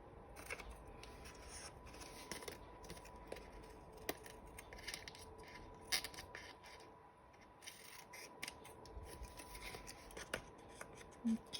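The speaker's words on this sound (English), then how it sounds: "I know you're not enjoying watching me cut this" Scissors cutting paper-craft material for an altered index book, giving a run of quiet, close snips and rustling hand movements throughout with no talk.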